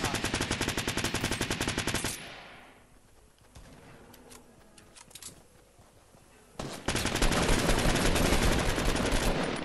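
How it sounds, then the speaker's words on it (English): Rapid automatic gunfire in the video game Fortnite, with a loud sustained burst, a quieter stretch of scattered distant shots, then another loud continuous burst. "What am I getting shot at?"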